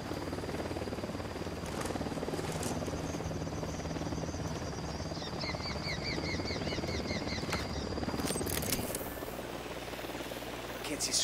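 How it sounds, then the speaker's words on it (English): Helicopter approaching in the tactical shooter game Ghost Recon Wildlands, a steady rotor drone that stays present throughout, mixed with game effects and chirping tones, fairly loud and continuous. "Chopper incoming."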